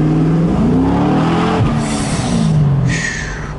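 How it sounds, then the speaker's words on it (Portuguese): A yellow Corvette sports car engine revs loud and close, its pitch climbing and falling through repeated throttle blips, with no talking over it. "Escutaram o motor? Coisa de louco"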